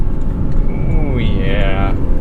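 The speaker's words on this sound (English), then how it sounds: "Rev match action." A 2021 Porsche 718 Cayman GTS with the 4.0 engine and six-speed manual blips its revs sharply during a downshift, rising quickly under loud, close engine and road roar inside the cabin.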